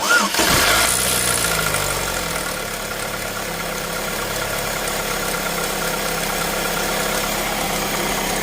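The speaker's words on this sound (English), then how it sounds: "you want to start the car real quick, Way?" A Chevy Cobalt's 2.2-liter Ecotec engine cranks and catches near the start, then settles into a steady, rumbling idle that continues to the end.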